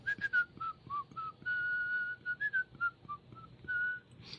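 A person whistles a lively tune alone, a string of clear rising and falling notes with short breaks and one long held note, fairly close and unaccompanied by talk.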